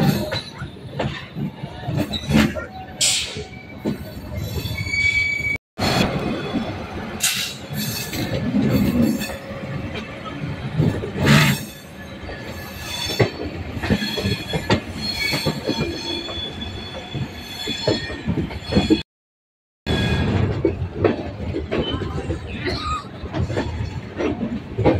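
A train moving through Ghaziabad railway station, with loud continuous rumbling, clattering wheels and high metallic squeals rising and falling over about twenty-five seconds, heard close with no talk.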